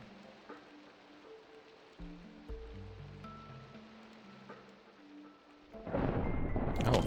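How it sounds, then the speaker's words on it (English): A thunderstorm in the Minecraft modpack Monifactory: steady rain hiss with low rumbling, then a loud, broad crack of thunder that swells near the end. "Oh, thunderstorm even."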